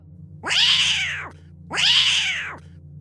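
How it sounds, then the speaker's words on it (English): A cat meows twice, loud and close, each cry long and drawn out with a short pause between them. "animals are very keen at sensing earthquakes. This cat was clearly shaken up. You could hear it."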